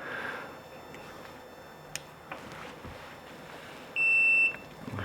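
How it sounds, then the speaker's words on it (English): A Eufy E110 smart lock gives a short, clear electronic confirmation beep once near the end, a steady tone lasting about half a second over quiet room noise. "Heard the beep, click the button here, hit next."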